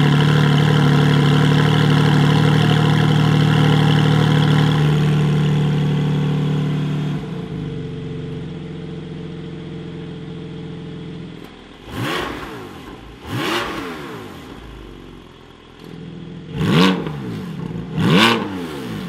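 A Porsche 981/718 Cayman fitted with an over-axle exhaust pipe and GPF delete idles loudly, settles down, then gives four sharp throttle blips that rise and fall quickly, heard close up with no talking.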